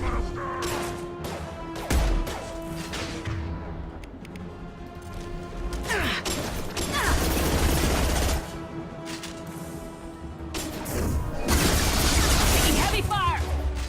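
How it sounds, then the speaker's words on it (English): Gunfire in a KotOR-style sci-fi shooter game, bursts of shots and impacts cracking in clusters amid constant game background noise, with talk nearby. "Taking heavy fire."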